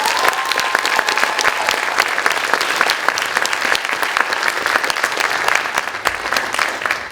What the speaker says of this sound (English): let's give a round of applause for all the art attendees